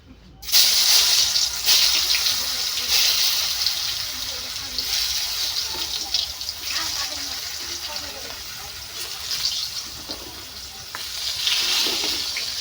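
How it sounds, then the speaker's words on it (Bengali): Thin eggplant slices fry in hot oil, starting with a sudden loud hiss and settling into a steady, close, bright sizzle and crackle, with a voice speaking over it. "আমি বেগুনটা এরকম পাতলা পাতলা করে কাটি, একদম ভাজাটা একদম করকরে ভাজা হবে"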